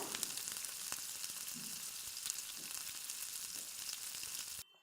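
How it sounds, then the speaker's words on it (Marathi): Red chilli powder and garam masala sautéing on low heat for zunka, a faint steady sizzle with a few light stirring taps before it cuts off. "मसाला टाकल्यानंतर छान परतून घ्या कमी गॅसवरच शक्यतो मसाला परतून घ्यायचा आहे"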